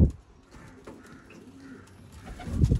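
Chapray kaboo pigeon breeder chicks coo softly in a quiet room, with a few brief calls and then a louder burst of close cooing near the end.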